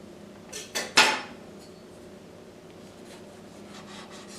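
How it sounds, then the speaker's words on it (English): A knife slices through a large beefsteak tomato on a cutting board, giving three quick close cuts in a row followed by a quiet room. "carefully remove the core before cutting the tomato into several sections"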